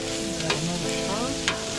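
Steak and onions with butter and garlic are stirred on a hot griddle, giving a steady close sizzle broken by two sharp scrape-like clicks of the spatula, with no talk.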